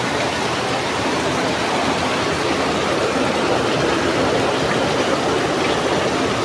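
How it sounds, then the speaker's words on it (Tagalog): Heavy rain pours down in a dense, steady hiss that stays constant and loud from start to finish. "malakas oh yung ulan oh"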